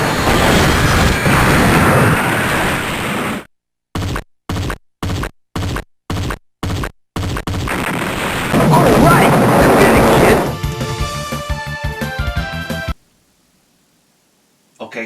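Shots and explosions from a Sega Saturn shooter game, dense loud blasts and crashes with a rapid run of clipped bursts in the middle, followed by a burst of brighter electronic tones before falling silent.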